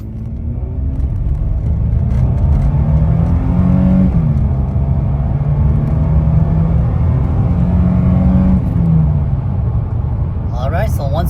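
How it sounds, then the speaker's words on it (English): A car engine revs hard and steadily for about ten seconds to stress-test the transmission after a fluid change, a loud sustained rumbling drone with the pitch rising and holding, close by. "I'm gonna build up the RPMs and see if we could break this transmission."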